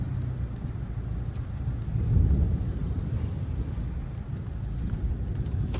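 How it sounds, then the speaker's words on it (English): Thunder from a thunderstorm over Big Bear Lake, California, rolls low and distant for a few seconds, swelling briefly in the middle, with rain and steady background rumble throughout. "there's some thunder."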